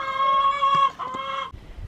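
Garden hens clucking and squawking close by, a bright warbling call for over a second, then a shorter burst of clucks fading into quieter rustle at the end.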